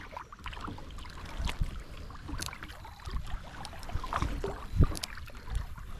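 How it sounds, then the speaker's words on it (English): A kayak moves along a scenic river with a picking-up current. Quiet paddle strokes dip and splash at irregular intervals over soft moving water, with a few sharper drips and knocks close to the boat. "Paddling the same as I was, I'm going about twice as fast."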